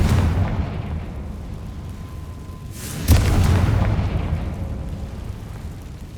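A Confringo blasting spell in Hogwarts Legacy goes off as one sudden, fairly loud boom midway through, then rumbles and fades over a quiet ambient background.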